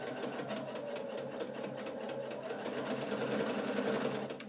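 A sewing machine fitted with a Husqvarna Viking ruffler foot set to pleat every sixth stitch runs continuously, its fast, even mechanical clatter close and steady throughout, with no voices.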